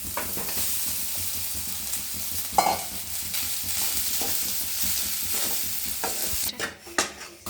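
Cooked rice being mixed in a pan with salt for mango pulihora, continuous scraping and stirring over a soft sizzle, with a few louder knocks near the end, no talking.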